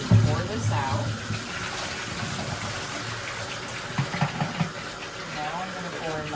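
Liquid is poured out of a film developing tank while processing 120 Tri-X black and white film, a steady close splashing gush with someone talking over it.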